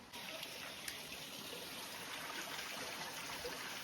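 Water trickles and streams steadily down a rocky hillside at Unakoti, a soft continuous wash of flowing water heard at a moderate distance with no talk over it.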